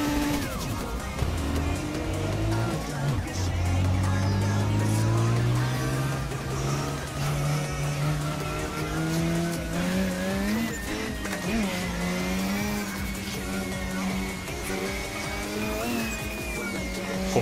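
Mazda RX-7 FD3S racing on the Gunsai Touge mountain road in Assetto Corsa, a loud close engine revving up and down through gears as it works through corners, with tyre squeal and faint talk underneath.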